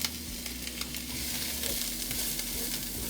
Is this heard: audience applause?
no